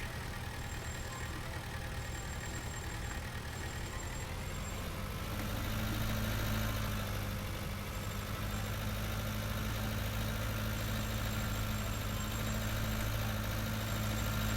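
A small Ford tractor engine idles in Farming Simulator 19, a steady low diesel rumble with a slight swell midway, continuous and close, with no voices.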